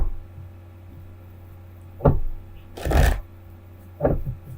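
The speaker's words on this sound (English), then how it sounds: "Just pull up all the cards here." Tarot cards are pulled and handled on an unstable table, heard as three brief close shuffling riffles over a quiet low hum.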